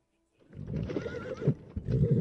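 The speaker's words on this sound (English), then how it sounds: "hearing another set of horses" Horses neighing and whinnying close by with hoof clip-clops as they arrive, a busy, continuous stretch of animal sounds after a brief quiet start.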